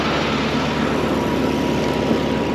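A truck refrigeration reefer unit engine revs hard in freezing cold, a loud, close, steady droning roar with no breaks and no talking over it.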